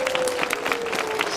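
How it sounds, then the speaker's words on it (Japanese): An audience at a national mountain bike championship ceremony applauds in a dense, steady burst of clapping throughout, with a faint voice mixed in the crowd. "大きな拍手をお願いいたします。"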